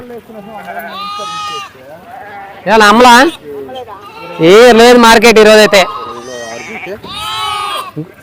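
Sheep and lambs bleat loudly and repeatedly, several calls overlapping, mixed with people talking nearby at the busy outdoor weekly livestock market in Gudur.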